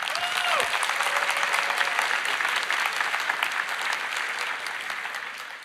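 Steady, full applause from a large keynote audience, dense and even throughout, tapering slightly toward the end.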